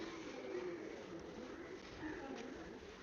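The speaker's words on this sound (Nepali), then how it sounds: "उडाउने चलन भएकोले एकदमै धेरै परेवाहरू रहेछन् है" Soft cooing of many pigeons murmurs in the background at a Kathmandu temple, blended with a steady outdoor hum and faint voices.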